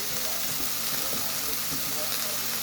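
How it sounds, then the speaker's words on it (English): Meat browns in a pan, putting out a dense, steady sizzle throughout with faint stirring and a little background noise. "So, I'm cooking that until it gets browned or whatever it's gonna get."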